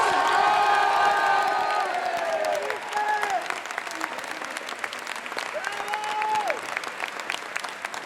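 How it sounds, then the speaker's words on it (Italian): Sustained applause from a crowd honouring a Calcio Padova footballer at a player farewell gathering at Caffè Pedrocchi in 2011; dense clapping with some cheering and tonal voices mixed in, loud at first and then easing slightly. "Facciamo un applauso ad Alessandro Dal Campo!"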